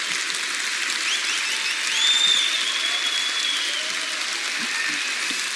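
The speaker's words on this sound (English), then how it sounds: "So please give a huge applause to Raggi." A large crowd at the CCP Fanfest 2014 presentation applauds steadily and loudly, a dense wash of clapping that swells briefly near the middle and continues without voices.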